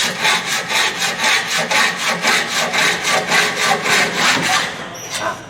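Steady back-and-forth hand sawing through an aluminium window frame, a rhythmic rasping stroke repeated about twice a second, close and loud, ending in a brief scrape.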